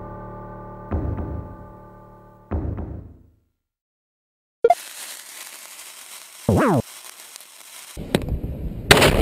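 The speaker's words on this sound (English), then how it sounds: "it's so fucking annoying when they blow up and take out your strongest guy" A Final Fantasy Bomb monster blows up in a video game, heard as several sharp, loud pops and bursts with crackling debris, separated by short gaps and a moment of silence.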